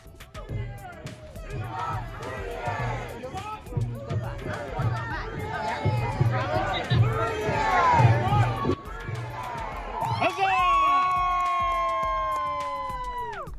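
Crowd at a camp parade during a week-long medieval reenactment event, cheering, chanting and singing in a dense, lively mix of many voices, ending in a sustained loud group cheer.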